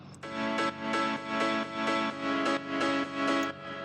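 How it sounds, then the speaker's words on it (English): Layered piano chords for an emotional progressive house track ring out alone, struck in a steady repeating rhythm of about eight even hits, each bright attack followed by a sustained, full-bodied decay. "some other piano layers which sound like this"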